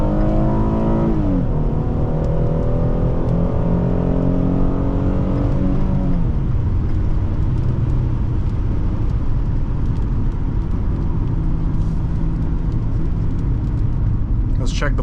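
A 2014 Ford Taurus Police Interceptor with a 3.7L engine accelerating hard, a loud steady engine roar climbing in pitch through a gear change and then holding a strong, sustained drone.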